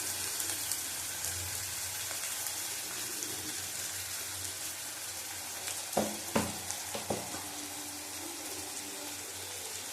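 Chicken for a tarka fries in a pan with a soft, constant sizzle, and a few sharp clinks and stirring knocks near the middle before the frying settles again.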